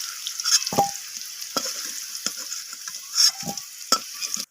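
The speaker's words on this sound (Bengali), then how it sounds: "তো আলুগুলো এখানে লালচে করে ভাজা হয়ে গেছে।" Potatoes fry in oil with salt and turmeric until reddish: a soft steady sizzle with several distinct spatula stirring scrapes spaced through it.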